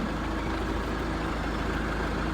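Kubota BH92 tractor backhoe running steadily as its hydraulic boom extends, a loud continuous low engine drone with a hydraulic whine close by, no talking over it.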